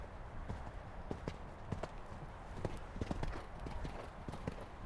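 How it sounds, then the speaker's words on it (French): A horse canters in a riding arena during jumping training, its hooves clip-clopping in a steady rapid rhythm, close and moderately loud throughout. "laissez galoper le cheval, lui décontracter la mâchoire"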